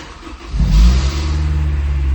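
An AP1 Honda S2000 engine cranks, fires and catches with a loud surge of revs, then settles into a steady, close idle.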